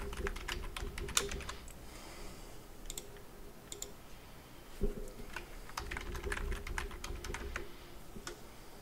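Someone types a password for an SQL Server on a computer keyboard, producing close bursts of quick, crisp key clicks broken by short pauses, with one heavier keystroke midway.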